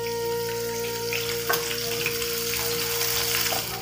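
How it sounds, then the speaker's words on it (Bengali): Coated paneer cubes sizzle in hot oil in a pan, a steady close frying hiss with a brief clatter partway through. "পনিরগুলো কিন্তু খুব সুন্দর চারিদিকে ভাজা হয়ে গেছে"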